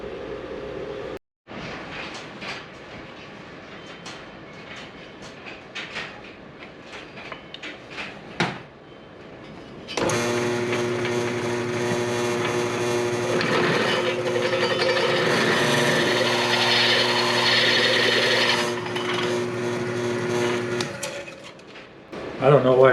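A drill press cuts mild steel at 650 RPM, starting about halfway through with a loud, steady whining drone and strong harmonic tones, preceded by scattered clicks and handling noises and cutting off near the end.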